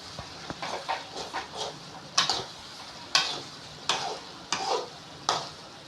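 Sliced radish frying for a Tamil egg poriyal, stirred in a pan: a steady close sizzle broken by repeated sharp scrapes and knocks of a spoon against the pan, with no talk.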